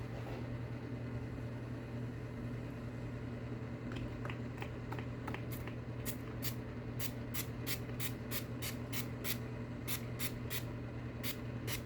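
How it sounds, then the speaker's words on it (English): Spray bottle misting water onto curly hair, a run of sharp hissing spritzes that grow more frequent, close and clear over a steady low background hum, with no talking. "So I will be just spraying it. Spraying it until it's not frizzy and it's curly."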